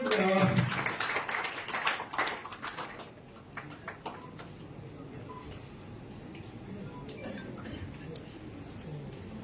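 Applause from an audience at a press event honouring journalists, a burst of hand-clapping that is loudest at the start and then thins into scattered claps under crowd murmur.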